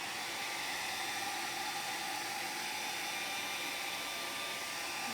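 A hair dryer blows steadily and close by, drying a wet-into-wet watercolor cloud painting, a constant broadband rushing whoosh with no talk over it.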